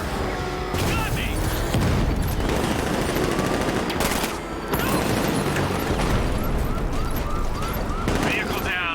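Automatic gunfire in Batman: Arkham Knight, dense rapid bursts and loud bangs layered with mechanical clatter and game music, with a few brief pauses between volleys and voices speaking over the action.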